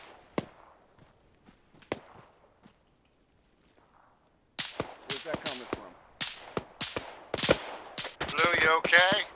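Gunfire in an Operation Desert Storm game: a few isolated sharp shots at first, then a dense, rapid volley of cracks and pops nearby, with voices talking in bursts near the end.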